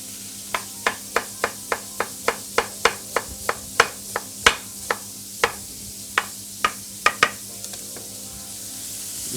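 Sliced onions fry in a pan for a chicken balti, a soft steady sizzle under a run of sharp, regular clacks as a utensil strikes the pan, loud and close, with no talking.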